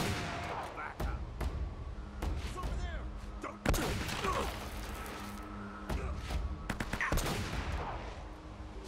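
Sniper rifle shots crack out in Uncharted: Drake's Fortune during a cathedral battle, several sharp loud reports spaced irregularly over steady in-game noise and rumble.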